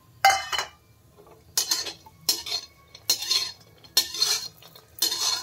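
Cashews, almonds and raisins roast in a pan, stirred in about five separate bursts of rattling, clinking scrapes with near-silent pauses between them.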